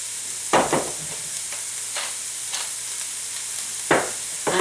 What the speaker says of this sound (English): And then you drop them into your pan.